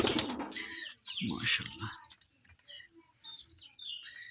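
Gorra pigeons on a small pigeon farm, with wing flaps and a soft cooing flurry early on, followed by light chirps and rustling while someone speaks briefly.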